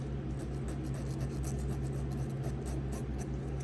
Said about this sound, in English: file that edge